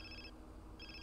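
A phone ringing in the video game Grand Theft Auto San Andreas: two short electronic ring bursts separated by a brief pause, clear and fairly quiet.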